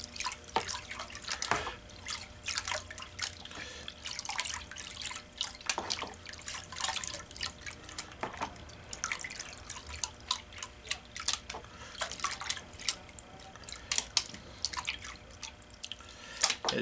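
Gold pan of pay dirt and black sand concentrates swirled in water, producing continuous close sloshing, trickling and dripping with scattered light splashes and gritty scrapes.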